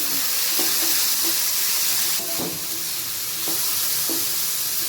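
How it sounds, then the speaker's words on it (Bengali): Carrot pieces sprinkled with salt frying in a pan, a steady loud sizzle and hiss with occasional soft scrapes and clicks from stirring, no talking. "গাজরের টুকরোগুলো দিয়ে একটুখানি লবণ ছড়িয়ে ভালো করে একটু ভেজে নেব"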